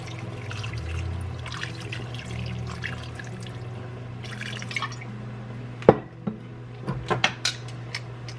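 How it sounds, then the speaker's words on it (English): Hot water poured into a pot of beef stew ingredients for pressure canning, a continuous trickling and splashing stream under a low steady hum, ending in a few louder drips and clinks near the close. "And then we're going to cover it with hot water."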